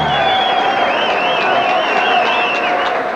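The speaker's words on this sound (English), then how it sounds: "A round of applause for Tony Marshall and Glenwood Brown." A boxing crowd at Bally's Park Place applauds and cheers two fighters after their bout, a loud, steady wash of clapping and crowd noise filling the whole stretch.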